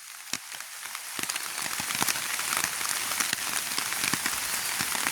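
Rain falls steadily across a village coconut grove, a broad constant wash of noise dotted with sharp nearby drops and splashes, holding at a fairly loud level for the whole stretch, no one speaking.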